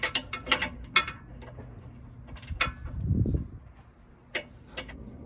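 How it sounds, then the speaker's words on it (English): A ratchet turns the nut on a 2023 Jeep Wrangler sway bar link bolt, giving a few sharp close clicks in short bursts separated by pauses, with a low scraping rumble midway. "you use the ratchet on the nut, and then you just start loosening it up from there"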